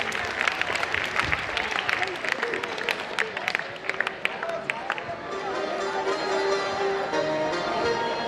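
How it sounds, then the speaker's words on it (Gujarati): At a school annual function, the audience claps for students receiving prizes. The applause is moderate and steady, with some sharper individual claps and a low murmur of crowd voices. "આપણે તાળીઓથી વધાવતા રહીએ ભાઈ વિદ્યાર્થીઓ."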